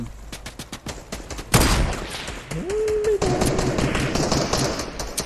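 Gunfire in Fortnite: rapid, sharp, repeated shots ring out in bursts, with a loud blast partway through and a rising electronic tone, followed by dense continuous firing.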